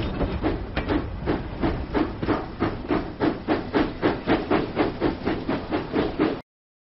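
A steam train from a Thomas and Friends track repair video game chuffs in a steady, evenly spaced rhythm with hissing between the beats, loud and alone, before cutting off abruptly.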